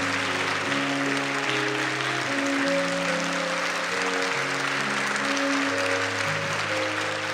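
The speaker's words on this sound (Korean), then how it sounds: "나오실 때 박수로 환영하고 축복하겠습니다" A church congregation applauds to welcome a guest pastor to the pulpit. The clapping is steady and moderately loud across the whole stretch, with sustained musical tones running underneath.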